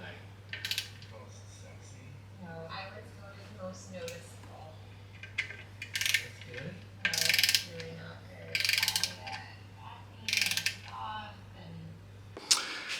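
A ratchet torques the bolts of an OS Giken four-plate clutch on an RB billet engine block, with several bursts of rapid clicking separated by pauses over a faint steady hum, and a sharp metallic clink at the end.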